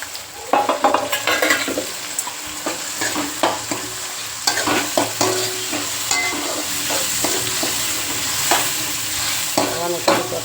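Onions and tomato sizzle in a pan, with steady frying hiss and repeated scraping, stirring clatter of a spoon against the pan, close up and continuous.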